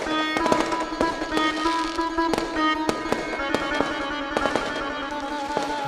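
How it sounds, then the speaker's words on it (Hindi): Fireworks set off at a crowded Ram Katha gathering in Badlapur pop and crack in a dense, continuous stream of sharp bangs over a steady background roar, with no talk. "विवाह तक आतिशबाजी रोक दीजिए आप सब।"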